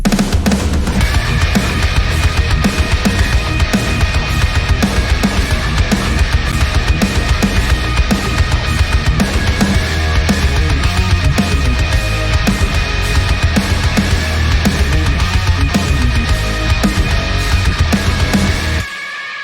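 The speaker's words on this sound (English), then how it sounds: "So I have a little metal track that sounds like this." Loud, dense metal music track with punchy drums, heavy distorted guitars and a sustained melodic line, constant and in-your-face throughout, with no talking.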